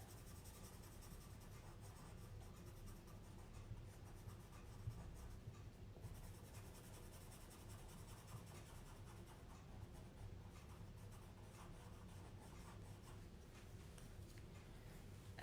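A colored pencil scratches steadily across paper while filling in a cartoon Baby Yoda's eye, a faint, continuous close-up scribbling with small irregular strokes.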